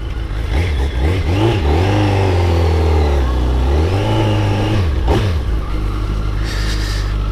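A car engine revving and accelerating as it pulls away on a road trip from Zagreb toward Germany, loud and close, with the pitch rising and falling through gear changes.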